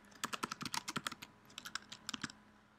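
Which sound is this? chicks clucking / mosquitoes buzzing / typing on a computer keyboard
typing on a computer keyboard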